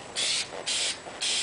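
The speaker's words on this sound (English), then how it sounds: "you don't really want to let spray paint" A spray paint can hisses onto a model X-wing in three steady bursts, each about a quarter second long with short pauses between, loud and close.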